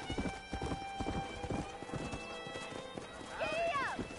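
Horse hooves clip-clopping at a gallop in the Red Dead Redemption game, a steady rapid beat up close, with a neigh near the end and music underneath.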